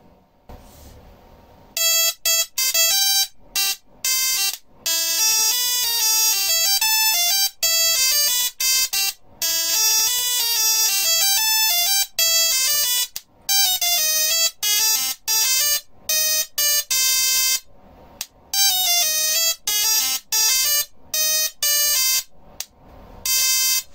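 A small musical Tesla coil plays audio through its spark: buzzy, crackling electric tones in a fast, choppy melody of shifting pitches, loud and close, with brief gaps between phrases and no voices.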